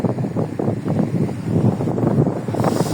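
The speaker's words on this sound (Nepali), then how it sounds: "आहा क्या राम्रो हावा" Wind blowing outdoors in Senba Park, Japan, a steady broadband rush with gusty low rumble against the microphone, continuous and fairly loud throughout with no talking.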